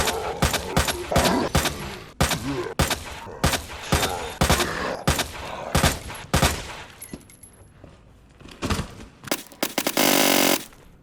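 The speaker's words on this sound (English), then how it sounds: "let's go ahead and test this submachine gun on a standard zombie." Rapid bursts of submachine gun fire ring out loud and close at a standard zombie in Resident Evil 2 Remake, a dozen sharp cracks spaced through the clip, ending in a brief dense burst.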